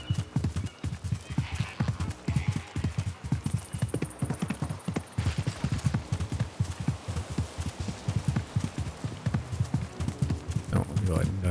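A ridden horse's hooves beat in a fast, steady clip-clop rhythm throughout this Assassin's Creed Mirage gameplay, loud and close, with a voice talking over it.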